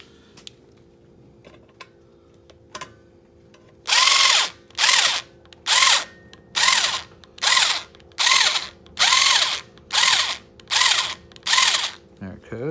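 A power screwdriver backs bolts out of a car headlight assembly in about ten loud, even bursts of whirring, each lasting under a second with short gaps between, after quieter handling clicks.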